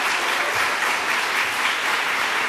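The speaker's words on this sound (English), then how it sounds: "Let's give them both a round of applause" Steady, dense audience applause at a New York governor's bill-signing event, a broad continuous wash of many hands clapping at even loudness throughout, with no voices over it.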